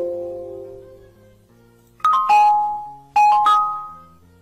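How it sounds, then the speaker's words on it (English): Windows 10 test chime sounding on headphones: a quiet low tone first, then two bright ding-dong chimes, each a pair of quick descending notes that ring and decay. "you should click on test to test that sound"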